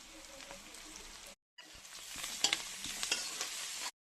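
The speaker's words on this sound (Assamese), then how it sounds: "কাটি থোৱা পিঁয়াজখিনি মই তেলত দি ওপৰতে অকণমান হালধি দি দিলোঁ" Chopped onions frying in hot oil with turmeric, giving a steady close sizzle with stirring scrapes and small pops, briefly cut off by a short silence before the frying resumes.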